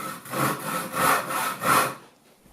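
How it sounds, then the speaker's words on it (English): A crosscut handsaw cuts across the grain of a wooden board. Four rhythmic rasping strokes sound close and fairly loud, then stop and leave quiet. "crosscut cuts across the grain of the wood"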